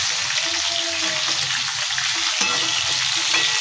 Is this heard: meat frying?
yes